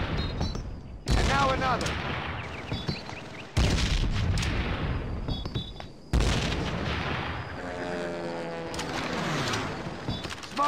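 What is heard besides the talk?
frag grenade explosions in Call of Duty: World at War video game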